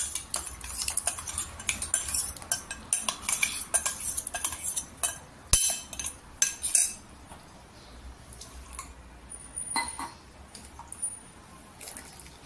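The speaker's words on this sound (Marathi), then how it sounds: "तर आपण याच्यामध्ये जे तांदूळ वाटून घेतलेले आहे ते टाकायचं, म्हणजे छान असं शिजलं पाहिजे." Ground rice goes into boiling milk for rice kheer and is stirred in a steel pot, with repeated scraping clinks and knocks of a spoon against the pan, busy for several seconds and then quieter with occasional taps.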